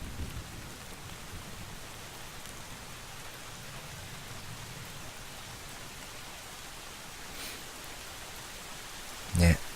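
Steady rain falls in the video game Drizzlepath: Genie, a constant even hiss with no break, and a short louder knock just before the end.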